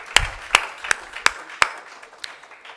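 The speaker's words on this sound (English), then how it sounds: "Let's give him a big round of applause" A few sparse, evenly spaced claps at a university portal launch event, about five sharp hand claps in a row fading into quieter scattered ones, fairly close and without talk.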